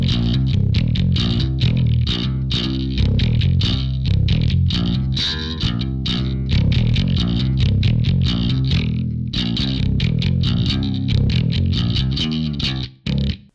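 Bass guitar played with a pick through a Sansamp PSA-1 preamp set for gritty distortion, a driving run of distorted notes with steady rhythm, loud and alone, ending with a brief pause and a final note.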